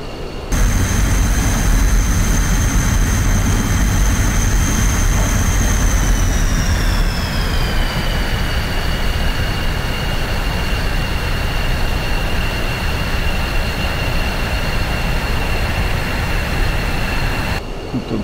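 MiG-21 jet engine idling in the DCS World flight simulator during a dive, a steady loud whine with high tones that slide down partway through, over broad rumbling noise throughout.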